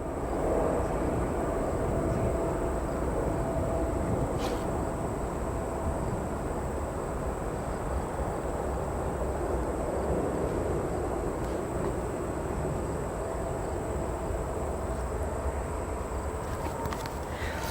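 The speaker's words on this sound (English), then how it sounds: "This Delta 757 spools up. It should have a decent smoke trail behind it as it departs." Jet engines on a Delta Boeing 757 spool up for takeoff at an airport, a broad, steady roar heard from a distance with a faint high whine above it, holding evenly throughout.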